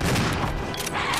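Rapid burst of gunfire in the survival-horror video game Resident Evil 0, a short clattering volley of shots sounding close and loud in a brief moment.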